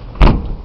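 A frozen car door is forced open on a cold winter morning, one short loud crack and thump at close range, with an idling engine rumbling underneath.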